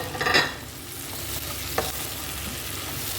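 Chopped tomatoes tipped into a pan of sautéing onions and masala for butter chicken: a brief burst of sizzle and splatter at the start, then a low steady fry with a single utensil scrape, close by and with no speech.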